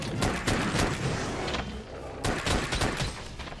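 Gunfire from the video game Monster Hunter: World comes as dense, loud bursts of rapid shots with booming low end. One short gap breaks the volley.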